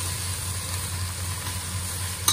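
Steady sizzling of vegetables being sautéed in a pan for a tuna and cabbage dish, a continuous close frying hiss with a brief louder scrape near the end and no talking.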